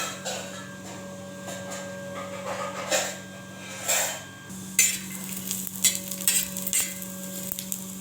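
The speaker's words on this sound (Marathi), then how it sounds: "इकडे मी आमटीचा मसाला भाजून घेते खोबरं धने दगड फूल तेजपत्ता मिरे लवंग" Grated coconut, coriander seeds, black stone flower, bay leaf, peppercorns and cloves dry-roast in a pan for an amti masala. A spatula stirs them in repeated scraping strokes with a light crackle, close up, over a steady hum.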